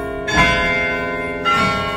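Carillon tower bells played by the automaton in Amsterdam ring with two distinct strikes about a second apart, each blooming into a long shimmering decay over lingering hum, no speech present.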